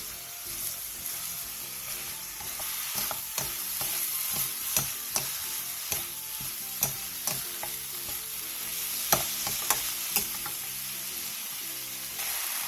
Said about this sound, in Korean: 팬에 기름을 두른 뒤 양파, 당근, 표고버섯, 소 불고기거리 100g을 넣고 센 불에서 볶아주세요.